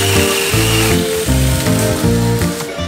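A loud, continuous motor whine from an Osuka cordless electric chainsaw rises and dips in pitch as it cuts through tree branches, close and steady.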